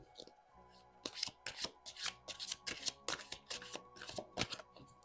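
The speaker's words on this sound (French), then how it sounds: "le temps de battre les cartes" Tarot cards shuffled by hand up close, a run of quick riffling bursts in an even rhythm, crisp and fairly soft against a quiet room.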